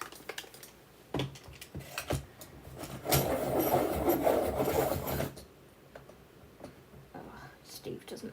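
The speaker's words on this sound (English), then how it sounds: "Oh, Steve doesn't have his sharpener set to the sharpest setting." A colored pencil turned in a sharpener, a few seconds of continuous grinding rasp in the middle, with a person talking before and after.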